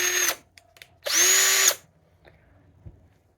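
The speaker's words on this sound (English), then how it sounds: "That is the hammer drill function." A Bauer combi hammer drill runs in two bursts, a short whir and then a longer, louder one that spins down, near and alone.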